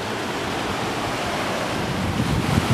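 High, cold river in a wilderness area being waded across by a backpacker, heard as a continuous broad rush of moving water close to the microphone, with a slight swell of splashing toward the end and no talk.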